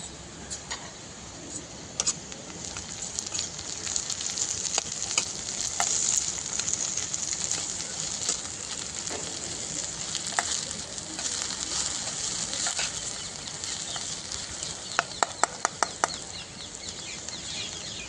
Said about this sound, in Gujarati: એટલે આપણે આવી ડુંગળી સરસ સાંતળવાની છે